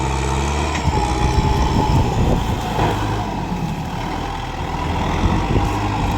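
Kubota M6240 tractor engine running steadily in the open while levelling field ridges to prepare land for sugarcane, a loud continuous low rumble with no break.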